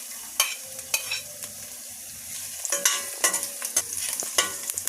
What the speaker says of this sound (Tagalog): Mag-start na si ating mag-gisa sa bawang, sibuyas at luya guys.